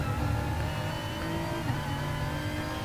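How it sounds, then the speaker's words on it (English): Inside a BMW race car during a racing round, the engine drones loud and steady with revving tones throughout, close and continuous, with no talk. "So now we get to listen to the inside of the BMW."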